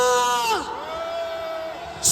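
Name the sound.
rally crowd shouting and cheering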